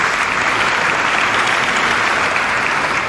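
Concert audience applauding a show, dense steady clapping from a large crowd filling the hall, loud and continuous with no talking over it.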